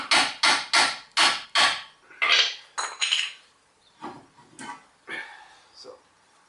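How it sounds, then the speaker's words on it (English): A hammer strikes a block of wood to knock a front brake caliper loose on a 1987 Toyota Corolla AE86, five sharp evenly spaced knocks followed by scraping, clattering metal as the part shifts free. "you will have to use a bit of wood and a hammer"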